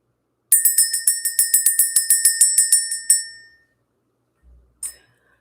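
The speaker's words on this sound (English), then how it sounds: "Let's go ahead and ring the bell" A bright metal bell struck in a rapid, even series of about twenty ringing hits, loud and close, trailing off into a lingering decay, followed by a couple of faint soft knocks.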